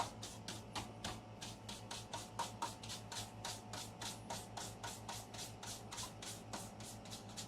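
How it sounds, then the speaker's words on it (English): Rapid, rhythmic rasping of a brush being sanded down to work loose thread material, about three strokes per second, steady and close with no talking over it. "I'm sanding part of my brush down"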